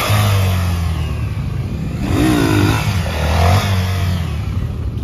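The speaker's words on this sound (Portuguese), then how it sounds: "Tá sentindo a moto." Honda XRE 300 motorcycle engine idling and being revved in short bursts, a mid-pitched buzzing engine close by with two rising pulls.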